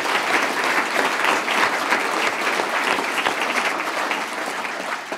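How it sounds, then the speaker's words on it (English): A lecture-hall audience gives sustained, dense applause welcoming author Philip Pullman back to the Open University, a steady wash of clapping that stays loud throughout and tapers slightly at the end. "join me very early on giving a very warm round of applause"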